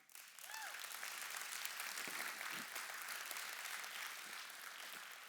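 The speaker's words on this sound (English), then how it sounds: "Let's give us a round of applause." Applause from a live audience, a steady broadband clatter of many hands clapping that holds loud and even for several seconds, with faint crowd noise and a brief voice underneath.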